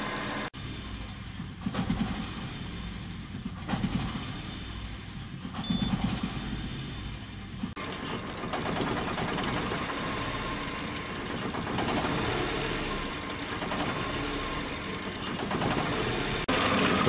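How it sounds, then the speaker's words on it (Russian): A Peugeot 307 with a 1.6 engine idles from a cold start, giving a steady, even mechanical hum with a constant low drone. It runs alone with no talking, and the level rises slightly partway through. "Двигатель сейчас запущен на холодную, работает довольно устойчиво."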